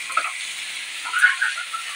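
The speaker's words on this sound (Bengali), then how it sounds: "এই যে পেঁয়াজ ভাজা হয়ে গেল আমার," Onions frying in a kadai pan alongside chicken and garam masala, a soft, steady sizzle with a few stirring scrapes swelling midway, alone without speech.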